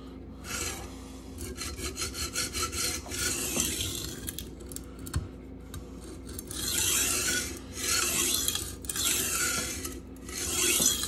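An S35VN steel knife blade being sharpened on an Atoma 140 diamond plate, repeated rasping scrapes in long strokes with short pauses between passes, close and clear with no talking.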